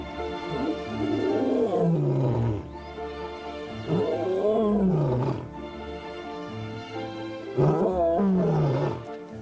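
A young lion roars in three long, loud, close bouts, each swelling and then falling away in a deep groaning moan, with short pauses between them and no talk.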